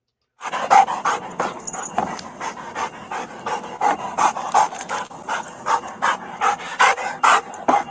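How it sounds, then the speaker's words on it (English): A dog pants heavily and steadily, a close, loud run of rapid rhythmic breaths that fills the whole clip with no talking. "You should hear a dog breathing very heavily."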